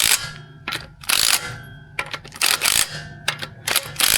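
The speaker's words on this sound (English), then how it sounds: "when you use them they go Ooga Dooga Dooga Dooga Dooga" Short, loud rattling bursts from an impact wrench tightening car wheel nuts, repeated several times with brief pauses in between, close to the listener.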